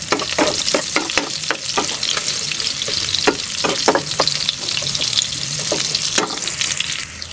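Onion frying in a pan for chicken neck adobo, a steady close sizzle broken by sharp scraping stirs at irregular intervals, with no voices.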